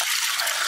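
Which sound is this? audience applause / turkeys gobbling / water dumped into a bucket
water dumped into a bucket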